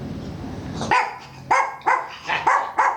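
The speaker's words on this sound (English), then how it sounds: "She's a good watchdog, yeah. He barks at people go by." A watchdog barks five times in an uneven rhythm, each bark sharp and fairly close. A faint murmur of room noise comes before the first bark.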